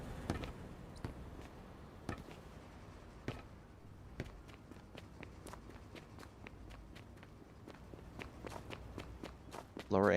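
Video game footsteps tapping steadily at a walking pace, with a few heavier thuds among them, set against low ambient game noise and ending in a short loud burst.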